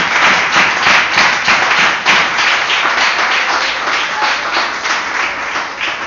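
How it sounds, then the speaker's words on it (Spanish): A church congregation claps together during a worship service, loud, steady and continuous with a loose rhythmic pulse, filling the whole stretch without talk. "Bueno, vamos a aplaudirle, vamos a hacer el ejercicio."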